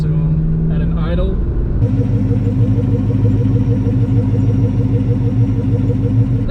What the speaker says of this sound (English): It's obvious with the Cobras is they have that unique sound to them at an idle.